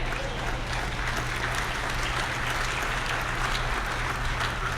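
An audience at a large annual Martin Luther King Jr. breakfast event claps steadily, a dense, even wash of applause that holds throughout with a low hum underneath.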